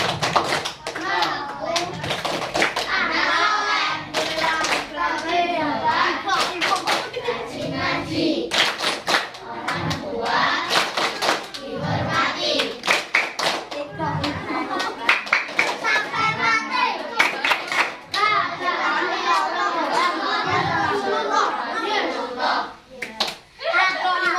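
Schoolchildren at an Indonesian primary school clapping in rhythm along with a sung chant, sharp repeated claps mixed with children's voices singing and talking, lively and close throughout.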